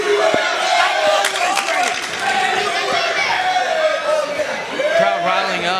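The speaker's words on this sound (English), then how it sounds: "Crowd riling up." A sold-out wrestling crowd roaring and shouting in a packed arena, a loud, sustained wall of cheers and chants with rising and falling yells, continuous throughout.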